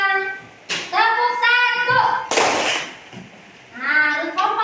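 Students in a classroom clap together on a teacher's cue in a short, sharp burst, set between stretches of a voice talking.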